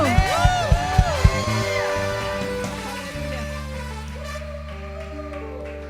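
A church congregation cheers and shouts for joy during worship, with sharp rhythmic beats and rising, swooping whoops at first, settling into sustained held tones and organ-like chords, loud and close.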